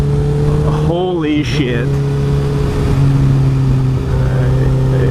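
A 2008 Honda CBR 1000RR motorcycle engine drones loudly and steadily on the road, then revs up and down sharply once before settling back into a sustained high-pitched hum, with a rider's voice exclaiming briefly.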